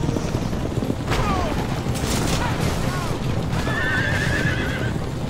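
Horses in the Assassin's Creed Revelations video game whinny several times over a noisy backdrop of hooves and clatter, with a loud neigh near the start and another in the middle before a final rising cry.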